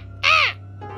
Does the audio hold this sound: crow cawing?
yes